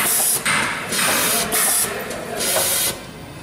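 An SPM-200MH automatic pyramid tea bag packing machine runs nearby, its loud mechanical whir broken by repeated hissing, spray-like pneumatic bursts in a regular cycle.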